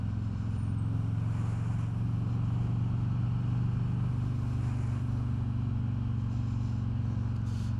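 A 2021 Harley-Davidson Road King Special with its 114 engine rumbles steadily at riding speed, a constant deep, loud drone with wind rush and no talking.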